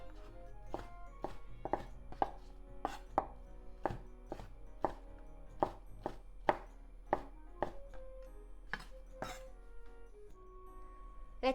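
A knife cuts chikuwa fish cake into thin diagonal slices, about twenty crisp, even taps on a cutting board in a steady rhythm, close and clear, ending in a brief pause.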